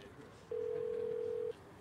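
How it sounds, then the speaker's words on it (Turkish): A telephone ringback tone for an unanswered call: one steady, clear one-second tone over a quiet room background. "Arıyorum, arıyorum ama açmıyor."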